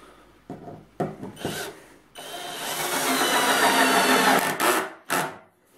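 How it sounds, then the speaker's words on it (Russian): A self-tapping screw is driven into a countersunk hole in wood, giving a loud, steady grinding whir of several seconds with short bursts before and after. "И теперь вкручиваем наш саморез."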